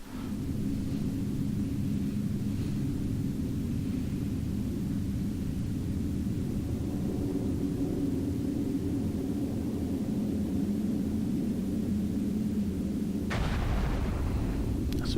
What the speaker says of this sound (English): The reactor is destroyed, so it creates an explosion.